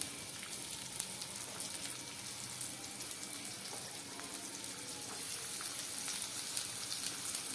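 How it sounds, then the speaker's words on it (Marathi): Chopped onion and capsicum frying in oil in a home kitchen pan for pasta, giving a steady, close hiss and crackle of sizzling that runs evenly throughout with no one talking. "आपला बारीक चिरलेला कांदा आणि छानपैकी कांदा त्याचबरोबर शिमला मिरची या ठिकाणी तेलामध्ये परतून घ्यायचं आहे"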